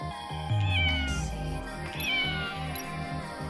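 A cartoonish cat meow from a video game character, a clear drawn-out mew with pitch sliding downward over steady game music.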